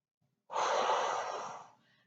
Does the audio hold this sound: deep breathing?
yes